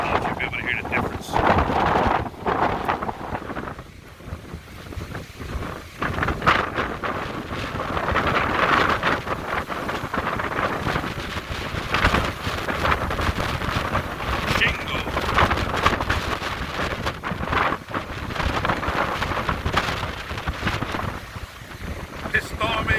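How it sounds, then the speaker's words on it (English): Strong wind gusts roar at night during Hurricane Delta, a constant heavy rushing buffet with surging peaks and microphone wind rumble throughout, and a voice speaks intermittently under the storm noise. "But the wind is blowing."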